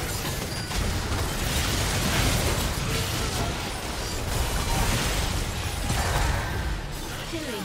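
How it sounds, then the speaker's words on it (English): A turret being destroyed in League of Legends sets off a dense, continuous wash of explosive crunching and rumbling game effects, loud and sustained throughout. "Team's turret has been destroyed."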